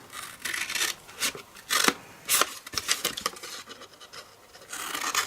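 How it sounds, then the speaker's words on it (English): Paper being cut with a trimmer blade for a double faux box card project, giving a run of short, close rasping and scraping strokes that come in uneven bursts, with no talking. "So now I want to cut up on the 2 squares on the right"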